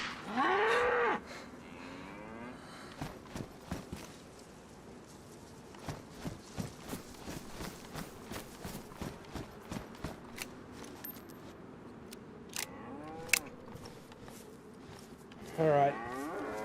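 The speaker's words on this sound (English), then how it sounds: "That's the second cow." A cow in the DayZ survival video game gives two short, loud moos, one at the start and one near the end, with scattered clicks and footfall thuds in between.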